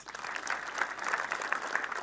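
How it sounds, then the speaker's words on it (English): A crowd at a boys' school alumni education day in Kanyuambora claps for the chief guest, with steady, moderately loud applause carrying evenly with scattered sharper claps. "Let us clap for our chief guest."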